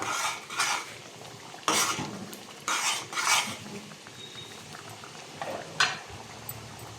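Tomato puree for tomato pachadi stirred in a cooking pan, a metal spoon scraping and clanking against the pan in several bursts, with a soft bubbling between strokes, close and clear with no talking.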